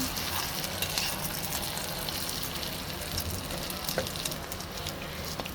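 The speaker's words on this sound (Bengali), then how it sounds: "তো এটাকে আমি আবার উল্টিয়ে নিব ভালোভাবে ভাজার জন্য।" Paratha frying in oil in a pan with a little egg mixture poured over it, a soft continuous sizzle close by with occasional faint crackles and light taps.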